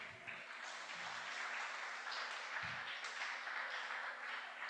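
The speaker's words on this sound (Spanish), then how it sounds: "Denle un aplauso al Señor" Congregation applauding for the Lord during a church service on offerings: steady, fairly faint clapping from a crowd that continues throughout, with a low hum underneath.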